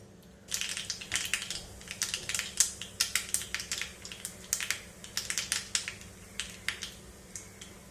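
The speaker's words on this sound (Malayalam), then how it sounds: "കടുക് പൊട്ടിക്കഴിഞ്ഞിട്ടുണ്ട്." Mustard seeds pop and crackle in hot coconut oil, a dense run of sharp little bursts in irregular rapid clusters over a low background hum.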